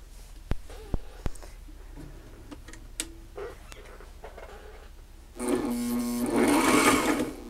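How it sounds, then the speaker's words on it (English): A Sailrite LS-1 basic walking foot sewing machine starts with a few clicks and handwheel taps, then runs steadily at close range, its motor whirring and needle chattering as it sews cording for a cushion. "So let's start sewing and see how she works."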